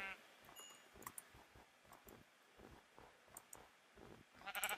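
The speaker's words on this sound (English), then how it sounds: "Sheep. Give me the old wool." Sheep in the video game Minecraft bleat in short repeated calls, several overlapping bleats at an even pace, soft and close, ending in a louder burst.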